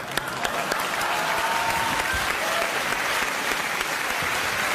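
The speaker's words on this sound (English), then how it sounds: "please welcome him with a nice round of applause" A television studio audience gives a sustained, loud round of applause to welcome a guest, dense even clapping with occasional sharper claps and faint cheers throughout.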